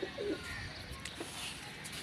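Domestic pigeons coo at a fancier's loft, a low throaty burbling call standing out near the start, followed by softer scattered coos over a steady outdoor background hiss, with no clear talk.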